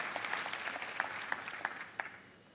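Church congregation giving a round of applause, a fairly faint, distant patter of many hands with a few sharper individual claps, tapering off toward the end.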